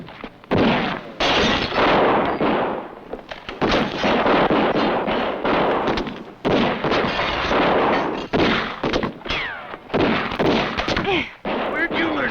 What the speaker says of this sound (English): Where'd you learn to shoot a rifle?